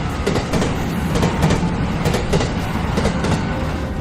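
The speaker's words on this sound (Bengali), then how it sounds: "পরক্ষণেই 3 নম্বর লাইন ধরে মেল ট্রেন হাওয়ার মতো স্পিডে প্ল্যাটফর্ম কাঁপিয়ে" A mail train races along the track past a station platform, its wheels clattering in fast rhythmic clicks over a heavy rumbling roar, loud and close throughout.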